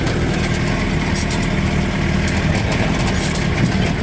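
Yamaha motorcycle engine idling at an outdoor camp, a loud, steady low rumble that holds without a break, with no talk over it.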